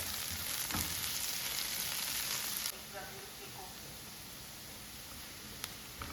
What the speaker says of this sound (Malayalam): രണ്ട് പച്ചമുളക് അരിഞ്ഞത്, ഇതൊന്ന് നന്നായിട്ട് വഴറ്റാം.